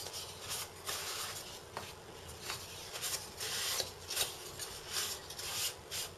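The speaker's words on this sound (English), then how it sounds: "Take your fins and remove the excess dust from your fins" Model rocket fins are rubbed clean of dust, giving soft, quiet scraping and wiping strokes repeated in short bursts against a faint background.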